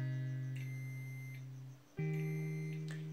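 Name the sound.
multimeter continuity test beeps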